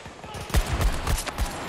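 Rifle fire from an HK G28 in Battlefield 2042, a run of sharp, loud shots in quick irregular succession over about a second and a half, with voices mixed in.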